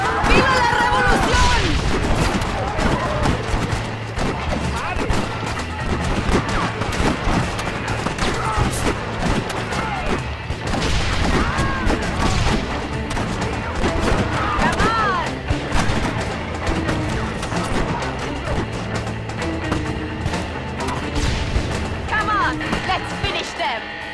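In the game Red Dead Redemption, a convoy is destroyed amid loud, continuous explosions and bursts of gunfire, with booms and crashes piling over one another throughout.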